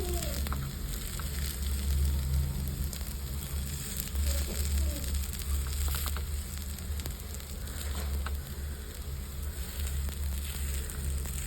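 Sweet corn snack frying in a pan, a steady close sizzle with a low oily bubbling underneath, continuous and even throughout with no talk.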